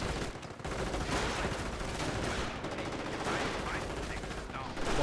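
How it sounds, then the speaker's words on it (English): Machine guns firing in the Company of Heroes video game, heard as dense, continuous rattling bursts that fill the scene, with a faint voice underneath. "those machine guns there, as you will see right now, they literally just rip enemy infantry"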